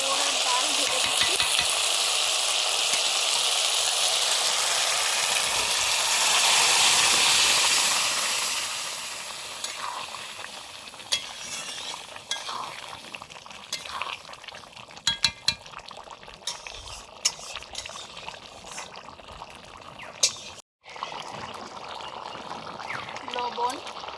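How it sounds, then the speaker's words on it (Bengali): Boiled banana stem and dal are poured into a hot pan of cooked-down spices, bringing a loud hissing rush that fades into softer bubbling and scattered clinks, with a voice talking over it. "এবার সেদ্ধ করা থোড় আর ডাল ঢেলে দিচ্ছি।"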